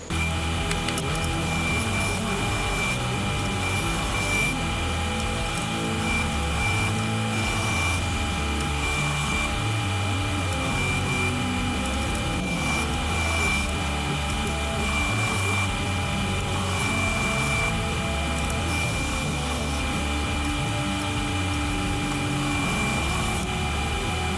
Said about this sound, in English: See that big wheel? That big wheel smooths it all out.